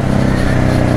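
Motorcycle being ridden through streets at an easy pace, a loud close engine drone with continuous rumble over one second.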